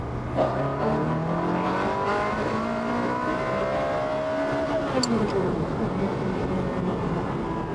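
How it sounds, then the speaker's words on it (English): A Ferrari 360 Spider engine revs hard and climbs in pitch, its loud open-valve exhaust roaring continuously up close, with a brief gear-change dip midway. "As soon as you open the throttle, as it should do, the valves on the exhaust system open"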